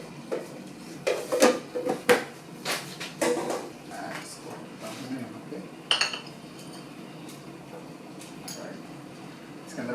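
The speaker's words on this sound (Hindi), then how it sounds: "इसके अंदर मैंने शुगर मिक्स कर लिया है।" A metal spoon clinks and scrapes against a cup, stirring sugar into coffee made with an Astoria coffee machine, with a cluster of quick clinks early on, a sharp tap near the middle, then quieter scraping at close range.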